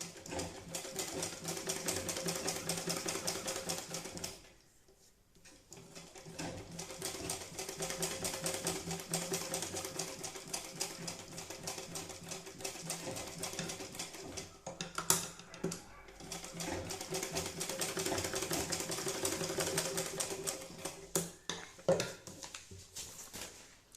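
A sewing machine stitches decorative designs in long, fast, steady runs of rattling needle strokes, pausing briefly twice between passes, with no talk over it.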